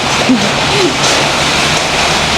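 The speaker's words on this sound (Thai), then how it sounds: "ว่าบรรยากาศดีขนาดตื่นมาฝนตก" Morning rain falling as a steady, dense, close hiss that stays even throughout, with no voices.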